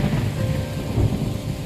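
Monsoon thunderstorm with steady heavy rain and a low, continuous rumble of thunder, dense and enveloping throughout with no voices.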